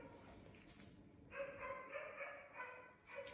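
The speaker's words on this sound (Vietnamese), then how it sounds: "ngoài kia thì nó có tiếng con Milu nó sủa" A dog barks outdoors in the distance, a faint series of repeated yelps and barks in uneven bursts over a quiet background hiss, with no talking.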